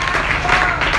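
A church congregation applauding together, a steady, dense wash of clapping filling the room for a brief moment with voices mixed underneath.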